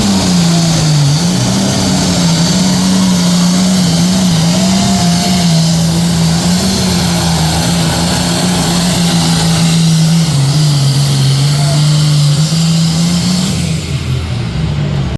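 Pulling tractor at a tractor pull competition, its engine holding a loud, steady, heavy drone throughout, with slight pitch wavering and no pauses.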